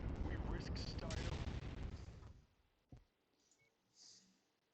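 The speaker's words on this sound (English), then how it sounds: "What we need you to do is silence those artillery cannons." Artillery cannons fire in the MechWarrior 5 video game, a dense roar of heavy booming shots that cuts off abruptly, followed by a single sharp thump and a fainter rumble.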